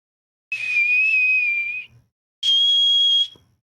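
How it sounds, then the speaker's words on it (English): Two sustained high whistled tones made with the tongue rather than the lips, each lasting about a second with a short gap between, clear and close with no talking. "Fake whistle? Yeah, I use my tongue."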